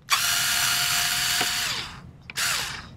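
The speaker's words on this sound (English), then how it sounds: "I'm going to go ahead and get our trusty screwdriver here, and we're just going to pop all the screws out" Electric screwdriver backing screws out of the heat sinks on a Dell PowerEdge R630 server: a loud, close motor whine lasting nearly two seconds, a brief pause, then a shorter second burst.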